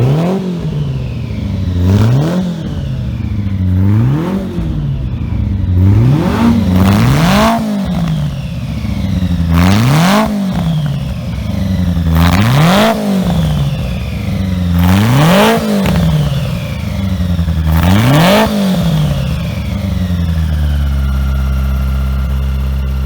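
A 1965 Abarth Simca race car with a 4-speed 1300 engine revs repeatedly, about eight rising-and-falling blips in a steady rhythm, loud and close, before settling into idle at the end.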